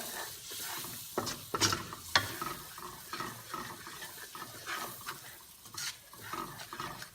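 Crabs stirred through garlic butter sauce in a pan, with a utensil scraping and clinking against the metal over a soft, steady sizzle and a few sharper knocks.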